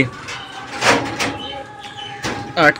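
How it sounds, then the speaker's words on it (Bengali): A door inside a pigeon loft is pulled shut, making a few short scraping knocks and bumps close by, with soft rustling between them. "তো এখন আপাতত দরজাটা আমি আটকে দিই, দেখি দরজাটা আটকে"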